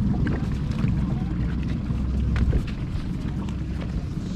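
A ProGlider Hyperglider cat drift boat motor runs during a sea trial, a dense continuous low rumble with wind and water wash on top, steady and loud throughout.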